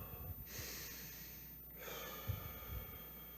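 A man breathes audibly, a long breath in through the nose followed by an exhalation, close and fairly quiet, with faint room noise.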